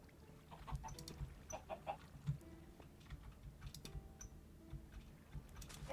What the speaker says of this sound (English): Oh, chicken, I don't want to hurt you.